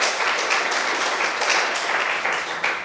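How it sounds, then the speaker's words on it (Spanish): A church congregation in Tarancón, Spain, applauds to welcome first-time visitors, a steady wash of clapping lasting a few seconds. "Les damos un fuerte aplauso, ¿no?"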